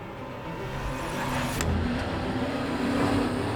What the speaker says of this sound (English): It has car chases